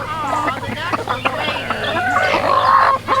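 Chickens cluck and squawk close by, several birds chattering over one another in a busy, continuous flock.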